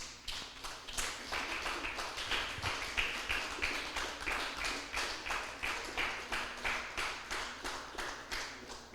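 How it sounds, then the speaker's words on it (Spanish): Steady rhythmic clapping from a church congregation, regular beats keeping time, moderately distant with no talking. "Denle un fuerte aplauso al Rey, aleluya."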